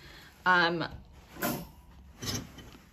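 A squeaky wardrobe door opening in a bedroom gives a brief tonal creak, followed by softer rustling and knocking, with talking nearby.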